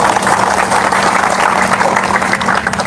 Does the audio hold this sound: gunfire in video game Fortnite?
no